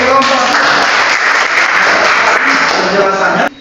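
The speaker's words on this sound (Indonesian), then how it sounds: "Tepuk tangan untuk kelompok" A classroom group claps steadily for a presenting group of students in a maths teacher-training session. The applause is dense and close, lasts about three and a half seconds, and then cuts off abruptly.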